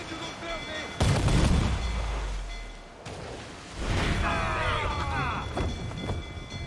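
Broadside of ship cannons aboard a sailing vessel in Assassin's Creed 4 Black Flag, two heavy booming volleys with deep rumbling tails, mixed with game sounds and a shouting voice.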